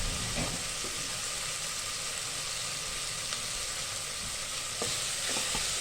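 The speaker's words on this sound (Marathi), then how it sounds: "आपल्याला आता ही पेस्ट चांगली परतवून घ्यायची" Paste of dry coconut and garlic frying and being stirred in a pan, a dense, continuous hiss and sizzle heard up close with occasional faint utensil scrapes and no voices.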